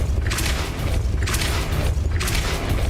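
Depulso spell cast repeatedly in the video game Hogwarts Legacy: three evenly spaced bright whooshing bursts over a constant low rumble, with no talking.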